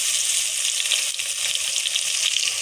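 Ginger and garlic hit hot oil with light brown onions in a pan for chana dal pulao, making a loud, dense, continuous sizzle that holds steady throughout.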